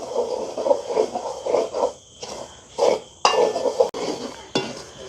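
Semolina is roasted dry in a metal pan in a village kitchen, a utensil scraping and stirring it in quick irregular strokes with occasional clinks against the pan, close and moderately loud.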